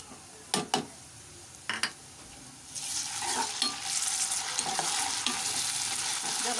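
Ginger and garlic hit hot oil with fried onions for a spiced taro dish, a few utensil taps at first, then a loud, steady sizzle and frying hiss builds and continues, with occasional stirring scrapes.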